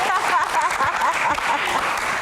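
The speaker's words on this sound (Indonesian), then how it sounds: "Tepuk tangan." Audience applause at a Q&A session for the GIGI documentary screening, a dense, steady clapping that fills the whole short stretch, with a voice faintly audible underneath.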